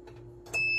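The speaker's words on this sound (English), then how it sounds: "You have to hear that beep to know that it's good." Multimeter continuity test on an electric range burner receptacle, a short steady high-pitched beep sounding once near the end after faint handling noise.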